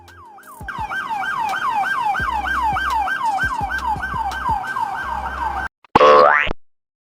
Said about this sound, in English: They are equipped with sirens, flashing lights, and modern communication systems.